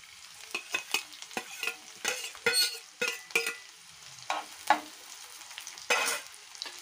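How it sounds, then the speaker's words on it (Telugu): Chopped onions hit hot oil in a kadai, giving repeated crackling sizzle bursts and stirring scrapes at an uneven rhythm, close and moderately loud, with no talking. "ఆయిల్ హీట్ అయిందండి దీనిలో తరిగిన ఉల్లిపాయలు"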